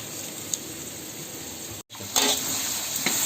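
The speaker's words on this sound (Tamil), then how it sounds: "வெங்காயம் நல்லா வதங்கிட்டு இருக்கு." Sliced onions fry in a pan for mutton biryani, producing a strong, even sizzle broken by a brief gap, then returning louder with light stirring crackle.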